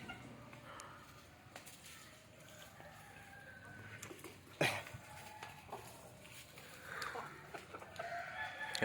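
Chickens cluck in the background while a rooster crows loudly partway through, with scattered farmyard noises and a faint voice now and then.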